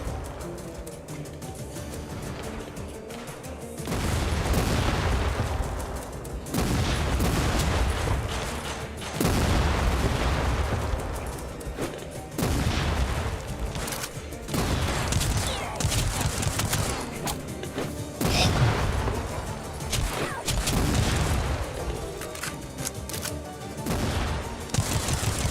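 Sustained heavy gunfire from the shooter game TimeSplitters Rewind, loud dense volleys and booming grenade blasts rolling almost nonstop, with a few brief lulls between bursts.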